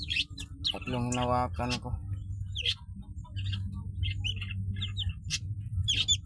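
Rescued duck chicks peep in high, rapid chirps, close and repeated throughout, under a person speaking in Tagalog with a low background hum.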